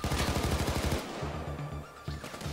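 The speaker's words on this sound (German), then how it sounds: "Ich habe zumindest eine Pumpgun gehört." Shotgun blasts from the heist video game Payday 2 ring out in a rapid string of repeated shots during the opening second, then sparser, duller bangs continue over a steady background din.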